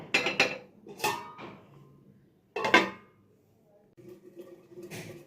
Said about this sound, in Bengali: কিছুক্ষণ পর ঢাকনাটা খুলে নিলাম।